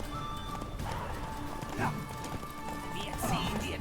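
In The Witcher 3, a horse gallops with rapid rhythmic hoofbeats over a dense game soundscape, punctuated by a short whinny, while someone talks and game voices shout in the background.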